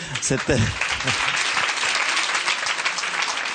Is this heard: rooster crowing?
no